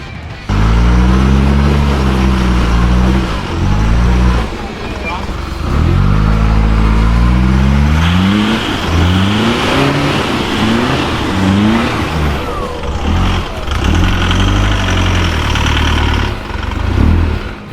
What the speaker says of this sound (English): Poor little D-Max is working hard to turn those big wheels.